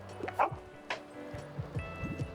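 A small stray dog in the video game Tiny Bookshop gives short yips and whimpering barks, a few quick sounds spread through a quiet game scene.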